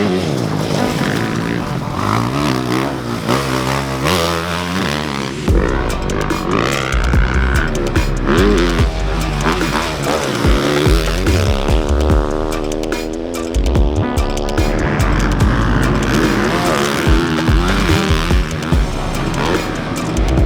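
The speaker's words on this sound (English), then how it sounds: "So we're gonna throw Dennis on here and see what he thinks about the bike" A 2024 Yamaha YZ450F motocross bike is ridden hard, its engine loud and close, revving up and down through gear changes without a break.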